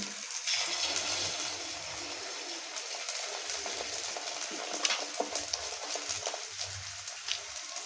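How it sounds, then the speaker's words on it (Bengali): An egg fries inside a ring of cabbage in a hot pan, giving a steady, moderately loud sizzle with faint soft bubbling thumps underneath and no talking. "এবার বাঁধাকপিটার মাঝখানে আমি ডিমটা দিয়ে ভেজে নেব"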